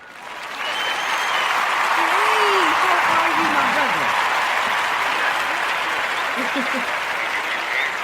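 A talk-show audience applauds a guest actor coming to the stage with steady, dense clapping that runs the whole time, while a man greets the host over the applause.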